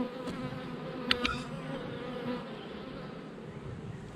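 Honeybees from a swarm at an open beehive buzz in a steady, moderately faint drone, with a few brief knocks early on.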